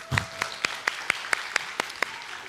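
People in a church clap together in a steady, evenly spaced rhythm of about ten sharp claps, fairly soft and close, with little other sound.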